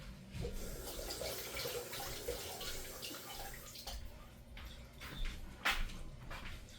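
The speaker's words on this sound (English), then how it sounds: "I'm going to rinse out this can." Water runs from a kitchen tap to rinse out a can, a steady splashing stream that shifts in tone as it fills and sloshes, with a few clattering knocks near the end.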